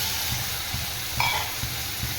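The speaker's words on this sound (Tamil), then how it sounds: "தக்காளி வதங்கிருச்சு. புளி தண்ணி ஊற்றிடலாம்." Tamarind water hits sautéed tomatoes in a hot pan while cooking tamarind rice, giving a steady, close sizzle with a few soft stirring scrapes.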